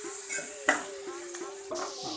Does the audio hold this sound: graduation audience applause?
no